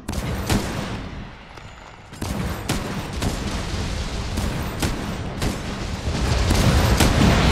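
Gunfire in the video game Monster Hunter World, with loud repeated shots and booming blasts over a dense, continuous roar of game noise.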